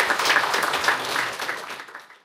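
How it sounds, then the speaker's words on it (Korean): Audience applause at an awards ceremony marking a Korean broadcasters' association anniversary, a steady wash of clapping that fades toward the end, no voices over it. "큰 박수로 축하해 주시기 바랍니다."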